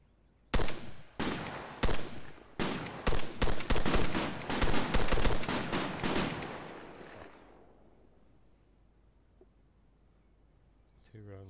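Belt-fed machine gun firing in the video game ARMA 3 with an Afghanistan setting, loud sustained bursts and rapid shots up close that stop and trail off into a fading echo and quiet.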